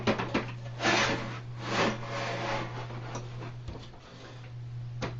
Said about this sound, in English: slide this shroud tube onto your drill. Now just simply slide it on.